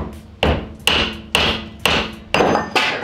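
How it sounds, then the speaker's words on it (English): Hammer tapping a stuck axle out of its flange on a Nissan 350Z, six sharp metallic strikes at a steady rhythm, close and loud, each ringing briefly before the next. "the axle's like stuck in the flange, so we're gonna tappy tap it, as AV would say"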